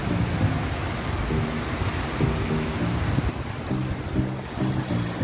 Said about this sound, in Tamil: இது எப்படி இருக்குன்னா அப்படியே சாரல் அடிக்குது